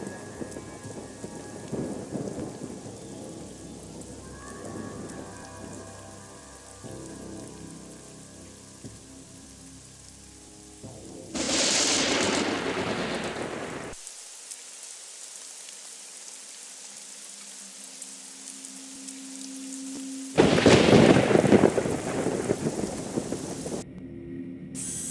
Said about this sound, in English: I hope the rain isn't too acidic.